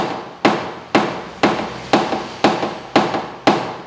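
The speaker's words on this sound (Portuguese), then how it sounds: "Só sabe bater martelo" Paintless dent repair on a small car dent: a hammer strikes metal eight times in an even rhythm about every half second, loud and close, each sharp tap ringing briefly.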